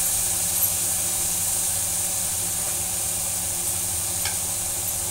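Chopped tomatoes sauté in a hot pan with turmeric for masala oats, giving a steady, even sizzle and hiss that runs throughout with no voices.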